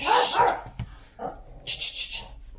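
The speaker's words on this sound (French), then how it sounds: "excusez-moi pour mon chien qui aboie" A dog barks in sharp, loud bursts nearby, with yips and whimpering sounds between the barks, heard alone in a room.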